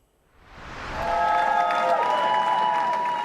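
Jubilant Labour supporters cheer and applaud Keir Starmer's arrival at Downing Street, the crowd noise swelling from near silence into a steady, dense roar of clapping and cheers that holds for several seconds.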